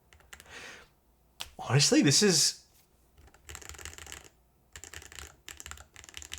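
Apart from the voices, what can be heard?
typing on DS Pixel Pro Hall effect keyboard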